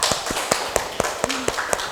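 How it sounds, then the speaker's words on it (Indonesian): A classroom group gives a short round of applause, heard as evenly spaced, fairly loud claps in a steady rhythm with a faint voice underneath. "Nah, tepuk tangan buat kelompok A."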